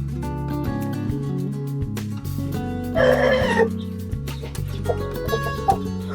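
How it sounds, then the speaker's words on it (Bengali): Large foreign-breed chickens on a fancy chicken farm cluck and call, with a loud rooster crow bursting out midway over a busy background of tonal sounds. "এটা বিশ্বের সব থেকে বিদেশি মুরগির ভিতরে বড় জাতের মুরগি বলা হয়"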